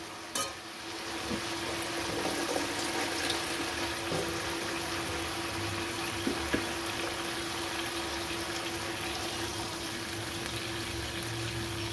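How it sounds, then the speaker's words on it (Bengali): Water goes into a pan of cooking cauliflower and fish curry, making a steady sizzling, bubbling hiss that runs the whole time with a faint low hum underneath. "এবার আমি জল দিয়ে দেবো।"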